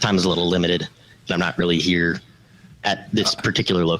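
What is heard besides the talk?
No distinct noise like a dog, phone or traffic.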